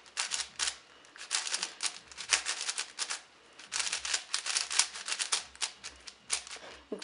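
A brand-new BoChuang 5x5 puzzle cube being turned, its dry, scratchy plastic layers giving bursts of rapid clicking and rasping in quick, uneven runs, close and fairly quiet with no talk.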